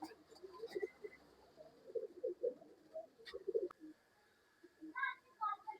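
A breeding pair of pigeons coos in soft, low, rounded bursts close by, repeated in a loose rhythm, with a few brief higher chirps near the end.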